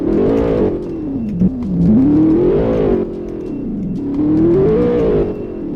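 A tuned Nissan 370Z Nismo launches hard, the engine climbing in rising revs with a brief shift dip, then surging again in a second pull; loud, close and continuous with no talking.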